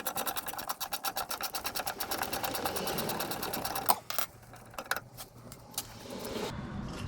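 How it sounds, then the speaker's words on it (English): A 1/2 inch wrench ratchets a bolt loose on the brake caliper of a 1982-1987 GM A-body car (Buick Century, Chevrolet Celebrity). Quick, steady metallic clicking runs for about four seconds, followed by a few scattered clanks of metal, close up. "get this 1/2 inch and unscrew this bolt right there"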